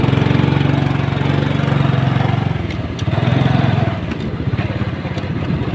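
A motorcycle engine running steadily while riding through a city at night, a close, loud, throbbing mid-low drone with slight rises and dips in revs, and someone talking over it.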